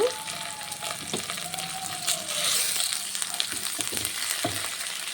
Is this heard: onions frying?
yes